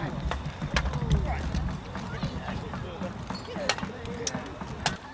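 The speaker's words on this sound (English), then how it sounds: "The cavalry charging once again." Cavalry horses charge across a field, hooves pounding in quick irregular thuds with sharp clatters throughout, while voices talk and shout over the galloping.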